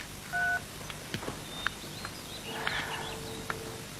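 A borrowed mobile phone being dialed, a short clear keypad tone followed by a few quieter key beeps and light taps, close and in an otherwise quiet room.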